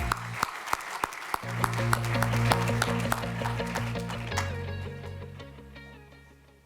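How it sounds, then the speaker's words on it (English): Audience applause at an alumni athletics hall of fame awards banquet, sustained clapping from a room of people, fairly distant and moderate, swelling then tapering off, with sharp individual claps at the start and no talk. "one last round of applause, ladies and gentlemen"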